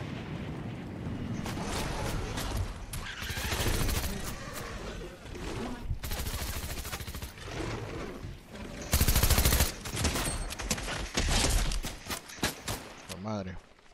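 Gunfire in the Fortnite video game comes as repeated loud bursts and rapid automatic volleys with booming impacts, mixed with game sounds while someone talks over the action.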